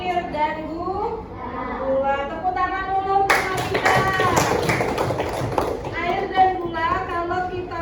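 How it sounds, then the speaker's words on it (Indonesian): Schoolchildren in a classroom applaud a classmate named Nabila with a burst of brisk, uneven clapping lasting a few seconds, with a voice speaking before and after. "Tepuk tangan dulu untuk Nabila."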